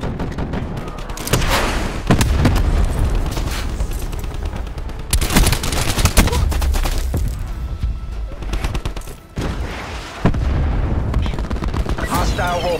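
Black Ops 4 match on the Summit map with gunfire throughout and sharp booms of a frag grenade detonating, loud and close, several blasts and bursts packed together over continuous battle noise.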